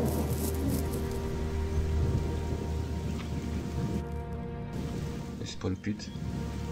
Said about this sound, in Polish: Jeszcze jakby ten deszcz nie padał, to by było super.